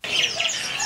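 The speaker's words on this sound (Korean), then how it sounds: "족자카르타의 명물 새시장에서 온갖 새들이 지저귀는 소리를 아낌없이 들었으니" Many birds chirping at a bird market in Yogyakarta, Indonesia, a brief dense burst of overlapping high tweets and calls, fairly close and continuous, with no voices.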